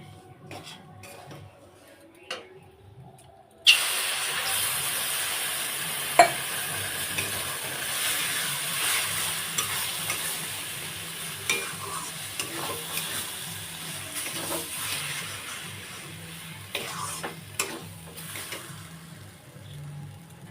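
A spoon scrapes and stirs steadily through roasting semolina for suji halwa in a pan, with a soft sizzle and occasional metal clinks, following a quiet start.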